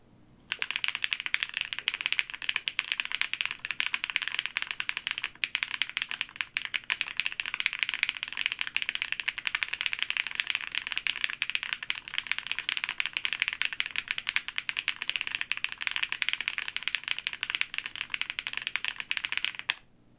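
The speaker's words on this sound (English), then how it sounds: "let's do a typing test" Rapid, continuous clacking of a Trio 65 mechanical keyboard with Bigwig switches being typed on quickly and evenly, close up, for about twenty seconds without talking.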